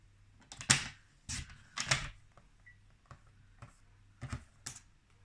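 Paper trimmer slicing card stock for a Stampin' Up! twist fold card, heard as several short, crisp scraping swipes and clicks up close in a quiet room, irregularly spaced with small taps between.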